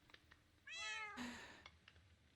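A cat in the Minecraft video game gives a single drawn-out meow with a rising, stretched tone, clear and alone against faint soft background ticks.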